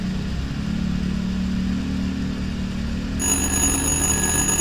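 A cordless telephone in the Little Hope horror video game starts ringing partway through with a bright, sustained electronic trill, entering after a low rumbling ambience and continuing to the end.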